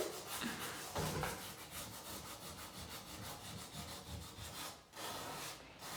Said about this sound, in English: I'm just going to use a flat piece of wood, flat piece of sandpaper.